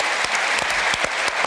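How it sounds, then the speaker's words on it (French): A French television studio audience bursts into brisk clapping, a short, dense patter of many hands at moderate distance with no voices over it. "Applaudissements, Jean-Michel."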